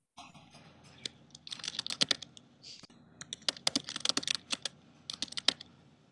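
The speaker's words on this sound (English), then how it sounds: "Emily, I think you're typing." Close computer keyboard typing during a town select board meeting held remotely, rapid clustered keystrokes in uneven bursts with brief pauses, loud and clear over a faint background hum.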